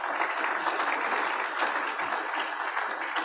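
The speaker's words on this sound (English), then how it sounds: "can we give Dr. Weber a round of applause" Steady, dense applause from a meeting audience clapping for a guest speaker, Dr. Shirley Weber, sustained and fairly close throughout with no voices above it.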